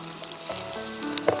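Garlic and onion fry in a pan with a steady, close hiss and crackle of sizzling oil, continuous and fairly quiet, with no voices.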